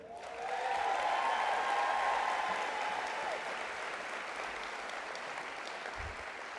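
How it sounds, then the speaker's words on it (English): An audience at a school nutrition association listening session applauds a USDA secretary, a broad steady wash of clapping that swells quickly, holds, then eases slightly while continuing, with cheers faintly audible early on. "I take that applause as you approve."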